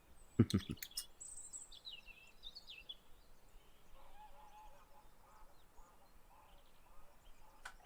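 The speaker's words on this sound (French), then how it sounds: "Avec les oiseaux en fond." Birds call outdoors in the background, with geese honking at a distance, a few louder close sounds at the start, then scattered faint calls over quiet ambient noise.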